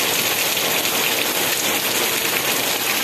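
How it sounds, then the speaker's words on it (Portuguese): Steady rain falls on surfaces in Quixeramobim, Ceará, a dense continuous hiss of drops, loud and close, with no talking. "chuva aqui na cidade de Quixeramobim, Ceará"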